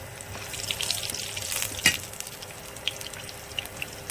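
Ginger and green chilies frying in a pan for rava upma, a steady soft sizzle with light crackles and one brief louder clatter near the middle, close and alone without talk.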